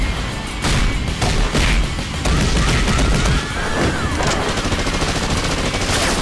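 Dense bursts of rapid gunfire erupt in an animated fight, loud and close, with short volleys and cracks stacking into a sustained fusillade over several seconds.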